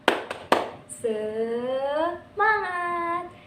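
An elementary class does a rhythmic 'tepuk semangat' clapping routine: a few sharp, close hand claps open it, followed by sustained chanted voices.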